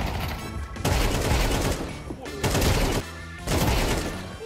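Video game gunfire in dense, loud bursts of rapid shots that cut off sharply between volleys, with a short pause before each new barrage.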